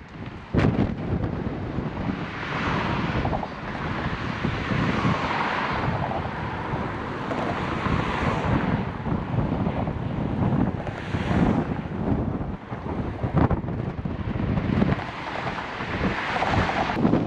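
Strong coastal wind on the Dutch coast near Hoedorp buffets a cyclist's microphone, a loud continuous roaring rumble with gusting surges and no voices for the whole stretch.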